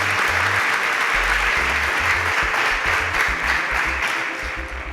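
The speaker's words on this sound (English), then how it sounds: "A round of applause for Adeze." Studio audience applause on a television show, loud sustained clapping that fills the whole stretch and tapers slightly at the end.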